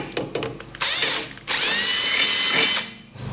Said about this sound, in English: At least get the hole drilled properly.